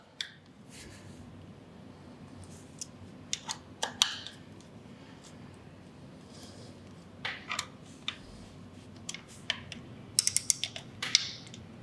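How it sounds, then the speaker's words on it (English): Scattered ratchet clicks and short creaking bursts come from tightening the three throttle body bolts on a Harley-Davidson during an air cleaner install, close up and fairly quiet over a low steady hum. "now I'm going to go ahead and tighten my 3 throttle body bolts."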